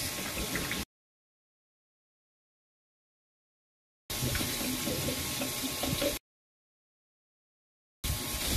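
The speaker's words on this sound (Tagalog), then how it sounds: "Lagyan natin ng tubig yan guys." Water pours into a pot in short bursts, a splashing, running stream that starts and stops, separated by stretches of silence.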